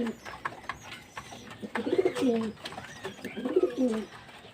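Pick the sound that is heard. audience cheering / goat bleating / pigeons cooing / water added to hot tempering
pigeons cooing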